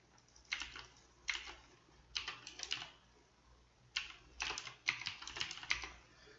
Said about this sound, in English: I should move the mouse while I'm typing.